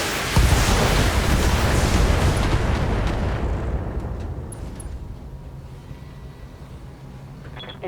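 Mech weapons fire and explosions in the BattleTech video game open with a loud, heavy barrage of booming blasts and rumble. It gradually fades over several seconds into a lingering low tail with a few faint metallic clinks.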